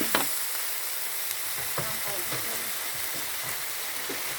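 Chicken and pumpkin curry is stirred in an extra-large pot after sugar is added. A steady sizzle is broken by repeated soft scrapes and taps of the spoon, close and continuous.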